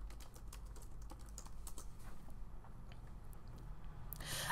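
Quiet keystrokes tap out a short burst of typing on a computer keyboard, entering text into a search box, faint and close with a low hum underneath and a louder clatter at the very end.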